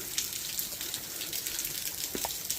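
Steady broadband rush of a waterfall at a nature preserve, continuous and moderately loud with no talk, a few brief splashes standing out over the constant flow.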